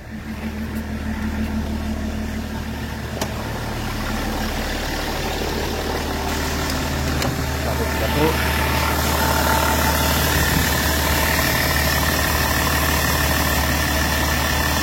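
A BMW E46 330d engine idles steadily and loudly close by. The low, continuous rumble holds for the whole stretch and swells slightly near the end.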